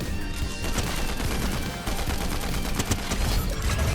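Rapid assault rifle hipfire from the Fortnite Reload video game, a dense, loud, continuous burst of gunshots cracking over game background noise for the whole stretch, with a brief dip near the middle.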